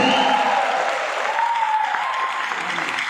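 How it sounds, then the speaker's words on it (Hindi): Dense, steady applause from an audience at an AWPL business plan seminar, filling the room at moderate volume without any talking over it. "तालियां तो बड़ी मजबूत चाहिए"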